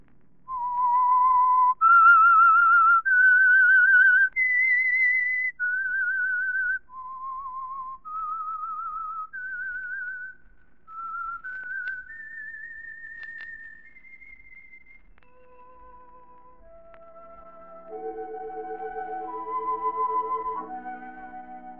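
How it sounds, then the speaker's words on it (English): A single person whistles a slow, clear melody, one note after another, ending in a fuller chord of sustained tones. "Let that whistle be your signal"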